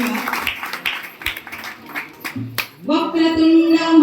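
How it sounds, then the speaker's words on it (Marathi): Scattered clapping from an audience at a Mangalagaur performance in Ratnagiri, a handful of distinct claps over a couple of seconds, then fading out as a sustained sung tone takes over. "या मंडळासाठी एकदा जोरदार टाळ्या वाजवू दे"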